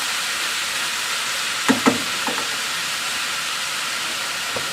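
Italian sausage and pasta shells simmer down together in a single pot, giving a steady close sizzle and hiss broken briefly by a few soft knocks near the middle.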